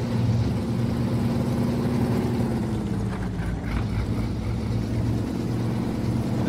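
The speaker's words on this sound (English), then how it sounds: "the engine sounds seem a little bland because from idling to accelerating, hammering down the throttle, you don't hear a whole lot of tone difference" Steady low engine drone from a 2021 Ford F150 truck crawling over rocks in SnowRunner, a continuous loud hum with little change in tone throughout.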